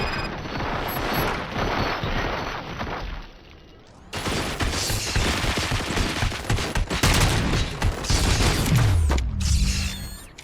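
Gunfire in the video game Robocop Rogue City, a dense barrage of shots and mechanical clatter that cuts briefly to a quieter lull before resuming loud and sustained, close and busy with game sound.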